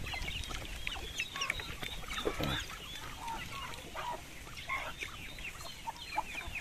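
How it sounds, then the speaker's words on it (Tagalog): Several backyard farm chickens cluck softly and intermittently nearby while feeding, with faint scratching and background noise; no one speaks. "Nakikikain yung mga alaga natin manok."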